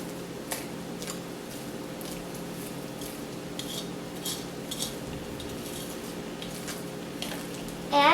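Banana bread batter being stirred in a bowl, a steady scraping and rubbing of utensil against the bowl with faint clinks, continuous and close, with a louder clatter at the very end.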